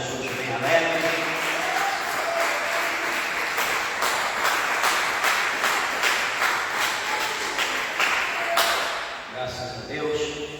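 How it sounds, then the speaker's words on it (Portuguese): A church congregation claps together in a sustained, dense burst of applause that fills the room, holding steady for several seconds before tapering off, with a voice speaking briefly at the end. "dê uma salva de palmas para Jesus bem alegre."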